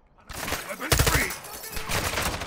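Dense gunfire in the Call of Duty: Modern Warfare 2 (2022) campaign: after a near-silent start, sustained loud bursts of shots roll on continuously, with voices shouting over the battle.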